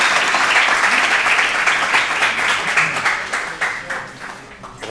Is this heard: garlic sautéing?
no